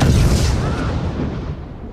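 A cannon fires in a video game, a single loud booming blast that decays into a rumbling tail, up close and heard alone.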